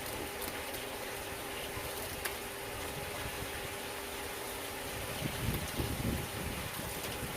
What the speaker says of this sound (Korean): 펌프 소리하고 물소리가 시끄러우니까